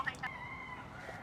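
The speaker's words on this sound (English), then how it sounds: "There's roosters everywhere here." A rooster crows once in the morning in Miami, a drawn-out call heard at a moderate distance, with a couple of short clucks at the start and a quiet ambient background.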